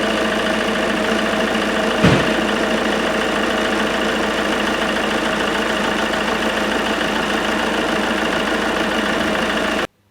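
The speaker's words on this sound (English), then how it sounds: "So I'll start the engine up now." Ford Mondeo car engine running at a steady idle, with a short sharp bump near the start as it catches, then an even, constant hum and vibration with no talking.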